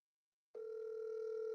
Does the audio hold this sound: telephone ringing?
yes